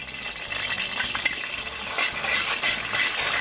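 Beef dropped into hot oil with garlic and ginger for lo mein fries with a constant crackling sizzle, while a utensil stirs and scrapes the pan in uneven bursts, close and alone.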